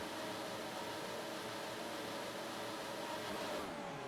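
An F1 2019 race car launching off the grid at the French Grand Prix, a continuous loud high-revving engine roar that holds steady as it pulls away.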